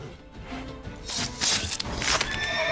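A horse in The Witcher 3 video game neighs and whinnies loudly, with a burst of snorting and clip-clop hooves close by over game background sound, with no talk.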